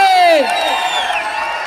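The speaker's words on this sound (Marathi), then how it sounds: "अहो टाळ्या पाहिजे एकदा हात वर करा बजरंग बलीसाठी" A crowd at a wrestling match between Shivraj Rakshe and Pawan Kumar roars and cheers right after a single loud voice shouts, with a dense, steady wash of noise from the audience.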